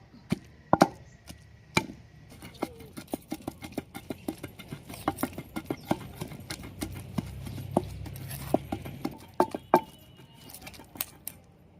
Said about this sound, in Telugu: రోట్లు వేసి నూరుతాను చింతపండు.